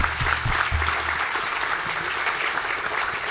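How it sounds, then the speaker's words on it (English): An audience at The Web Conference 2019 gives sustained applause, a thick, even roar of many people clapping in a large hall with no one speaking over it. "Let's give them a round of applause."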